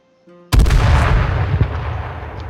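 A grenade detonates in the survival shooter H1Z1 with a sudden loud boom after a faint quiet click, then a rumbling tail that decays slowly.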